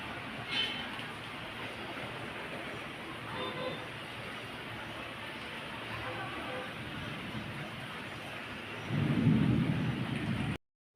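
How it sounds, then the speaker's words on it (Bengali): Rain falling steadily during a thunderstorm, with a low rumble of thunder rolling in near the end; a broad constant wash of sound with faint voices in the background. "বৃষ্টি শুরু হয়ে গেছে, মেঘ চমকাচ্ছে।"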